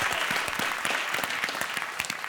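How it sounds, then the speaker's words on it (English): Studio audience applause on a TV word-game panel show, a loud, continuous wash of clapping from start to finish with no talk over it. "Round of applause, well done, Joe."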